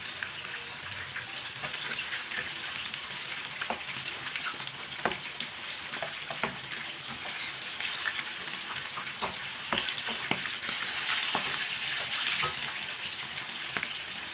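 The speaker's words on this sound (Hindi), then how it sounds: "ये वाली साइड से भी 3 मिनट के लिए फ्राई होने देते हैं।" Chicken roast frying in a pan on its second side, a continuous close sizzle with scattered crackles and pops, steady and moderately loud for the whole stretch.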